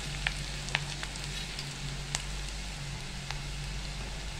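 Ginger garlic paste and green chillies sizzle with browned onions in a pan, a soft, steady frying hiss with scattered small pops over a low background hum.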